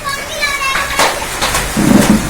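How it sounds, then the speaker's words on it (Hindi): Heavy hailstones and hard rain pound down during a storm, making a dense, steady clatter and hiss with sharper impacts, while a voice speaks over it. "बहुत बड़े बड़े ओले गिर रहे हैं।"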